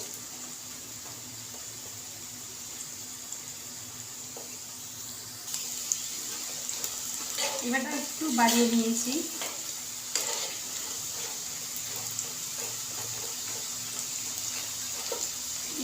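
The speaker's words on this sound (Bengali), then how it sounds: "এইভাবে নেড়ে চেড়ে মোটামুটি যতক্ষণ না মচমচে ভাজা হয় ততক্ষণ ভাজবো" French fries frying in oil in a home village kitchen, a constant soft sizzle with occasional stirring clatter, and a short spoken remark partway through.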